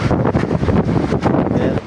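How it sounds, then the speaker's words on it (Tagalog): Strong typhoon wind buffets the microphone in a constant roar at the port of Mauban, Quezon, with rough churning noise of waves slapping against a ship's hull. "Halos dalhin ng malakas na hangin at mga hampas ng alon ang isang barko sa pantalan"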